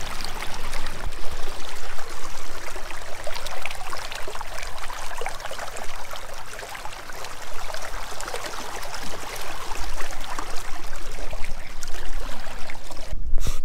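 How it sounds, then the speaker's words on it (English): Steady rushing, splashing water as a large silver king tarpon is held boatside and revived, water pushed through its gills; continuous and close, with no talk. "Get that water back through the gills"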